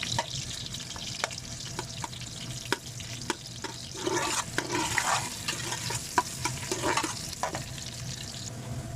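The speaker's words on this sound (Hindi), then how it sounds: "ये जी हमारे प्याज जो ये ब्राउन होना शुरू हो गए हैं। अभी थोड़ी देर इनको करते हैं फ्राई" Onions fry in a pan until brown for chana pulao, giving a close, steady sizzle. Scattered clicks and scrapes of stirring break through it, and no one speaks.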